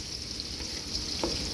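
Large red chillies, green bird's-eye chillies and red bird's-eye chillies fry in hot oil in a wok with a steady, close crackling sizzle and a faint clink partway through.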